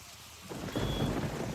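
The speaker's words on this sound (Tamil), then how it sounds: "மழை வேற பெய்யுது, நீ பார்த்து பத்திரமா போ" Rain pours down with a thunder rumble, starting as a faint hiss before the downpour and deep rolling thunder swell up loud and close.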